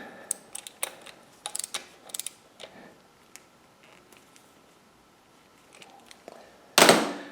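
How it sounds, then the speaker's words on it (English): Ratchet clicks tightening the bolt on a speedo gear clamp on a TH400 transmission in a 1987 Olds 442, a burst of sharp irregular clicks, then quieter ticks, and a loud clunk near the end, close up. "So let's rotate that, and then we'll just tighten the bolt up."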